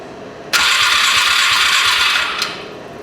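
Polaris Ranger 500 utility vehicle engine, just after a carburetor cleaning, catches abruptly and runs with a steady loud roar for about two seconds, then cuts off, with no talk.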